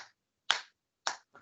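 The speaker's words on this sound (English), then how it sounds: "Now let's clap our hands like this." A group claps hands in unison during a children's singing lesson: three sharp, separate claps, fairly close and evenly spaced, with a softer fourth at the end and no voices.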